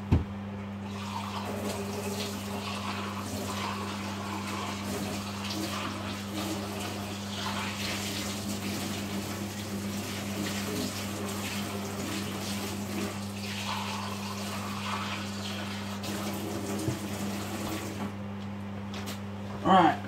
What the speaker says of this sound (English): just put the next lot of water on for my next lot of mashed potato